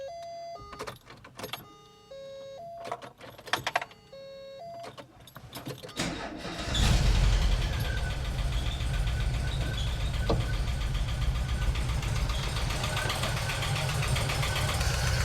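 A 1988 VW Vanagon engine cranks and catches after several seconds of scattered clicks and clatter, then settles into a steady, loud, continuous idle close by.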